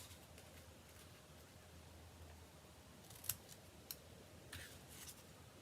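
Scissors snip paper tails on a handmade card in a quiet craft room, with a few short, faint cuts spaced out after a stretch of near silence.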